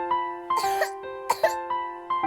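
Coughing from a cough mixture advertisement, several harsh bursts in short irregular succession over a steady tonal music bed, close and clear with no talk.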